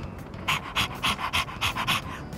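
A dog panting rapidly in the video game Persona 3 Reload, a steady run of about eight close, loud breaths in even rhythm.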